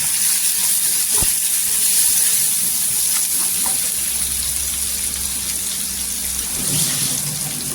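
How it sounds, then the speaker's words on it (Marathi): Turmeric and coriander powder fry in hot oil as part of a spicy padwal (snake gourd) bhaji, giving a steady close sizzle throughout with faint clinks and stirring underneath. "हळदी पावडर टाकलेली आहे, धना पावडर टाकायची आणि तेलावर परतून घ्यायची"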